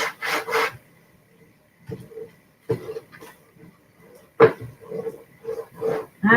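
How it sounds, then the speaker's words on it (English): Craft paper for a DIY file folder being burnished by hand, a few short scraping rubs that come in separate bursts with quiet gaps between them, close and fairly soft. "All right, so burnish."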